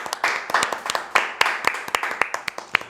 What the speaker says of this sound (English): Everyone give a round of applause for my brother.